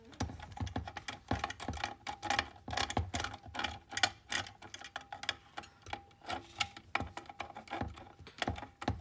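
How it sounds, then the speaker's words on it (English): Long quarter-inch nut driver backing out three collared screws holding the focus motor inside a Kodak 760H camera, a steady run of small dense clicks and ratcheting ticks close up, with no talking. "we'll use our long quarter inch nut driver to get the three screws to get the focus motor out of here."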